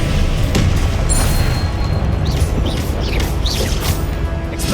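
In the Hogwarts Legacy video game a Confringo fire spell detonates, a loud booming blast over a constant dense rumble of battle noise, with faint whooshing effects drifting through.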